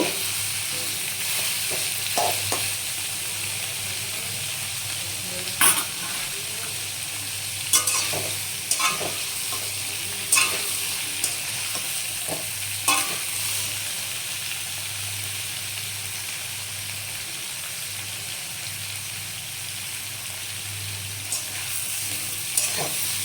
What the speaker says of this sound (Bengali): আমার ভাজা প্রায় হয়ে এসেছে।